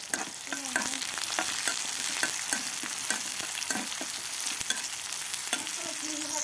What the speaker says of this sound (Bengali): এই তো আমার পেঁয়াজটা ভাজা হয়ে গেছে।